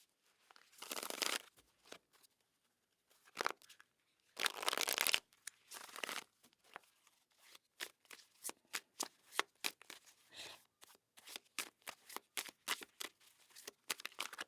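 A tarot deck is shuffled close by. Long sweeping riffle bursts come first, then a quick series of sharp card slaps and taps with short pauses between them. No one speaks.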